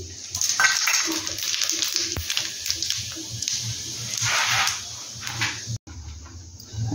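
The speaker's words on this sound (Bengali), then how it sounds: "আমি সাদা জিরেটা দিয়ে ফোড়ন দিয়ে দিচ্ছি" White cumin seeds tempering in hot oil for a raw mango pickle, giving a crackling, sizzling texture with irregular sharp pops and clinks of a utensil against the pan, moderately close.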